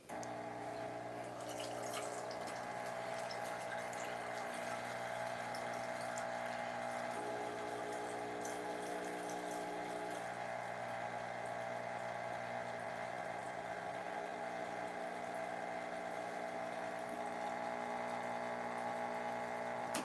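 A Gevi semi-automatic espresso machine pumping water for an Americano, a steady, loud, even mechanical hum with a running-water hiss that continues unbroken for twenty seconds.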